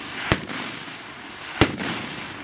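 Two sharp rifle reports at a long range shooting match, about a second apart, loud and near, each trailing off in a short outdoor echo with no talk.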